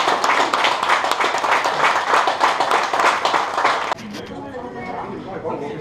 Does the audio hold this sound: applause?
yes